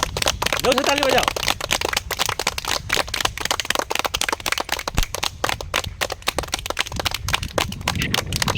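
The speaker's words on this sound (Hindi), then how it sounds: "जोर से ताली बजाओ" Children at a hostel morning assembly clap loudly in rapid, sharp, densely packed bursts that continue for several seconds, with a brief voice at the start.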